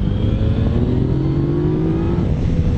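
Yamaha Tracer 900 motorcycle engine revving high past 7000 rpm on a mountain road, a steady loud drone with rising pitch heard close from the rider's position over wind rush.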